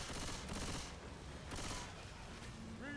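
Gunfire in Left 4 Dead 2 comes in repeated rapid bursts of automatic shots, fairly quiet and somewhat distant, with a short tonal game sound near the end.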